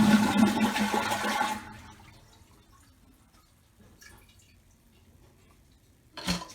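A toilet flushes with its handle held down after the water supply is shut off, a loud rushing gurgle that fades to quiet drips, then a short burst of water near the end.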